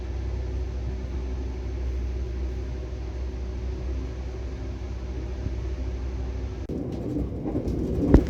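Onboard the KA Fajar Utama economy premium train passing Pasir Bungur station in West Java, a steady low rumble of wheels and carriage that breaks into brief clattering near the end.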